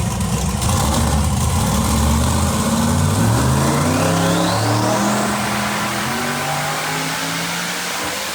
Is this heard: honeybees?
no